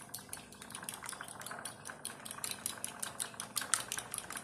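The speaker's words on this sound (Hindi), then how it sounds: "अब मैं इसे अच्छे से मिक्स कर लूँगी" A whisk or fork beats eggs with salt and black pepper in a bowl, giving quick, rhythmic metallic clicks that tap steadily against the bowl, close up and fairly quiet.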